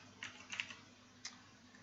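Quiet computer keyboard typing, a few light separate key clicks in two small bursts over a faint background hum, close and soft.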